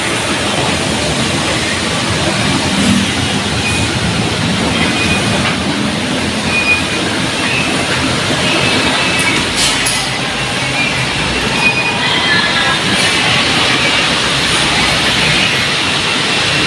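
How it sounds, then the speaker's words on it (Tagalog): MRT metro train rolling along the rails, a steady loud rumble with faint squeals and brief high whines, continuous and close throughout with no talking. "Nakaya tayo ng train ngayon mga Remix."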